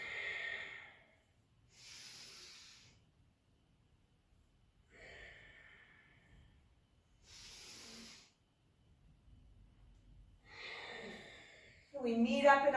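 Slow, deep breaths during a power vinyasa yoga session, several long audible inhales and exhales spaced evenly with quiet pauses between, close and soft, ending with a brief spoken voice.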